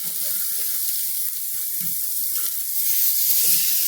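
Steaks sizzle on a hot grill, a steady close hiss of searing meat holding through the whole stretch with faint low crackles and pops and no talking.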